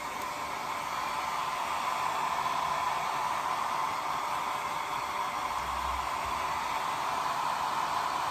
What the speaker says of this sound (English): I'm going to dry this pretty good because I'll show you what we're going to do.